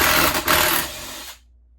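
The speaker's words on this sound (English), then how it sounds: "let's take these bolts" A powered driver or impact tool whirs loudly to remove bolts from a Briggs and Stratton push mower engine. The short steady spin breaks off briefly, resumes, then cuts out into near silence.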